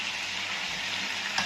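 Shrimp fry in a hot pan of oil for a chopsuey dish, giving a continuous, dense hissing sizzle, close and steady, with a slight stir at the end and no talk.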